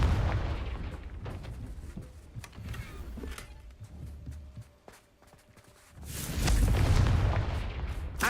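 A Confringo blasting spell in the video game Hogwarts Legacy: scattered impacts and battle noise give way to a loud, rumbling explosion with a heavy low boom in the final seconds, close and alone.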